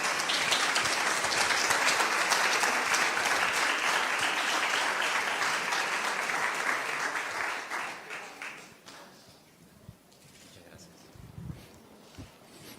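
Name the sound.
audience applause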